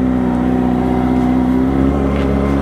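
A motorbike engine revving up close, loud and continuous, a steady throbbing drone that holds its pitch with slight swells throughout, with no voices over it.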